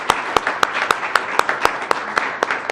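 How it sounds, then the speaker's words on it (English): Audience at a public meeting in Denver applauding panelists, a fairly loud wash of clapping punctuated by a strong, regular series of sharp close claps from one nearby person, roughly three per second. "could you join me in giving a warm round of applause and thanks to our panelists today"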